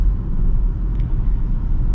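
A 2024 Kia EV6 GT-Line electric car accelerates, heard from inside as a steady low rumble of road and motor noise, loud and unbroken with no talk.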